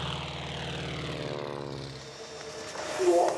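An aerobatic propeller plane flying, its steady engine drone with shifting harmonics holding throughout and a louder swell near the end, with no voices.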